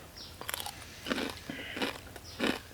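Crisp, close bites and crunches of pork cracklings eaten beside a Thai seafood salad, three or four distinct crunchy bursts with soft chewing between them and no talk.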